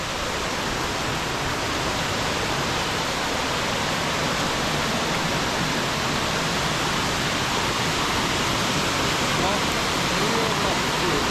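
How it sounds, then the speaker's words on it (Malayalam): The Kuttalam waterfall in Kollam gives a dense, continuous rushing roar of falling water, loud and close, holding steady for the whole stretch without a break. "ഇതാണ് കേട്ടോ ആ വെള്ളച്ചാട്ടം."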